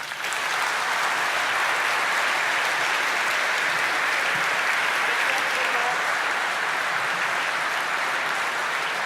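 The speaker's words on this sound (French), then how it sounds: "qu'on peut encore applaudir très très fort" An audience applauds a speaker at a chamber of commerce leadership handover evening, steady dense clapping filling the hall for the whole stretch, with no talk over it.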